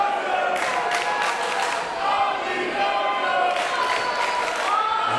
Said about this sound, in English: as the crowd's battling back and forth here.